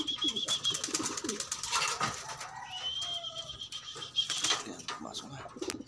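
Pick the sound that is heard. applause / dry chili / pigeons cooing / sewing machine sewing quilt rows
pigeons cooing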